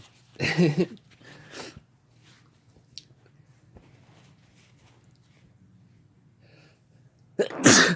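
Two loud, close sneezes, one at the start with a smaller follow-up burst, then a quiet pause before another forceful sneeze at the end.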